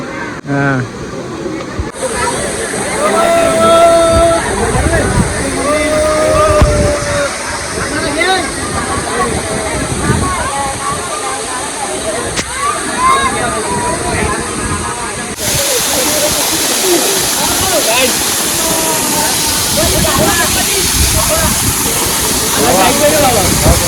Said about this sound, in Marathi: शहापूर तालुक्यामधला एक नंबर फेमस वॉटरफॉल म्हणजे हा तोंडा वॉटरफॉल